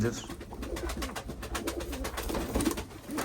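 Tumbler pigeons coo in a loft, a steady low murmuring from several birds with faint voices and shuffling mixed in under it.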